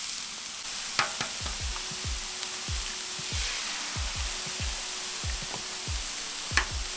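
Eggs fry on a flat top griddle with a steady crackling sizzle, punctuated by repeated close scraping taps of a metal spatula against the cooktop, and no talking.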